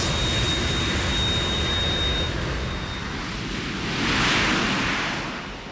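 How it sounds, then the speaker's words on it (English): A jet engine on a helipad in the video game Metal Gear Solid 2, a steady broad roar that holds throughout and swells slightly toward the end, with no talk over it. "I guess that explains the jet sitting on a helipad"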